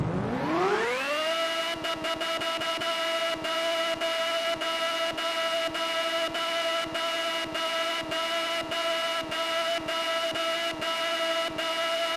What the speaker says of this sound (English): the Lizard Bayonet sounds like a vacuum cleaner, which is hilarious to hear